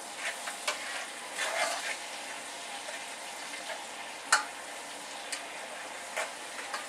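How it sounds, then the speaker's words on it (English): Onions fry in a pan for egusi soup with a constant close sizzle, broken by occasional light ticks and scrapes as they are stirred, and no voices. "The onions is being fried right now"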